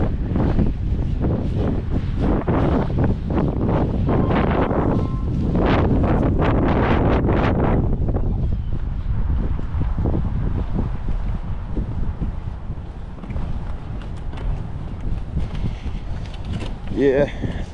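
Gusty wind buffets the microphone in heavy low rumbles, strongest early on, then eases into a softer outdoor rush with faint rustling near the end.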